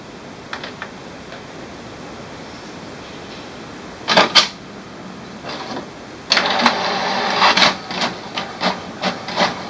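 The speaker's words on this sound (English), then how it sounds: "let's print an information page by pressing on the I button" An HP Deskjet Plus 4140-series inkjet printer runs off an information page: a faint, quiet whir, then short mechanical bursts and a longer stretch of clattering carriage passes with rhythmic pauses, heard up close with no talk.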